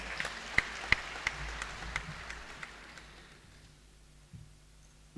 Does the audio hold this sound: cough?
no